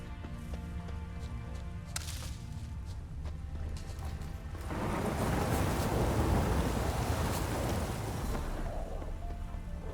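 A thunderstorm rolls in during The Witcher 3: Wild Hunt, with faint early cracks, then a heavy rumble of thunder and pouring rain swelling midway and continuing loud and steady.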